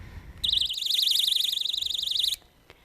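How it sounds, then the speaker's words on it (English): A car seat child-left-behind alert alarm sounds one steady warbling electronic tone, loud and close, for about two seconds before cutting off, with no other sound around it. "3 different alarms will sound"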